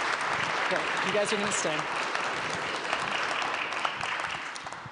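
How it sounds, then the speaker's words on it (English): Audience applause at an annual awards breakfast with champions, broad and steady across the whole stretch, with a speaker's voice coming through over the clapping near the start. "How about another round of applause?"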